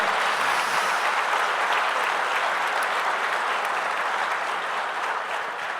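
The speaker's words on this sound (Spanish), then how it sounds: "Vamos a darle fuerte ese aplauso al Señor." A large church congregation applauds loudly and continuously during a sermon, a dense wash of clapping that stays steady throughout and fades only slightly at the end.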